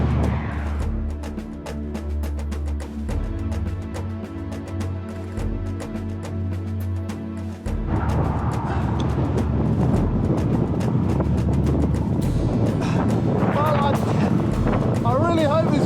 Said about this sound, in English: Hear it rattling. It's so, I mean, it's that windy. The whole thing is like vibrating.